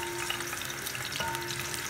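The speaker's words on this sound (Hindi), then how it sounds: "ऑयल को गर्म करके इसके अंदर मैं प्याज डाल दूंगी और इसको नरम होने तक फ्राई करूंगी।" Chopped onions fry in hot oil for moong dal khichri, giving a steady, close, dense sizzle that continues without pause, with faint stirring scrapes.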